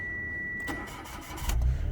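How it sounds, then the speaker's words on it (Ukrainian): A Mitsubishi Mirage car engine cranks briefly and catches, settling into a smooth idle, heard close and moderately loud after a short electronic tone. "Автомобіль заводиться з півоборота, працює рівно"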